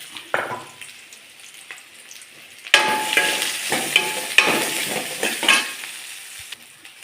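Plantain, taro and chillies hit a hot pan and are stirred, a loud burst of frying sizzle erupting partway through with scraping stirs, following quieter sizzling and clinks, close and without talk.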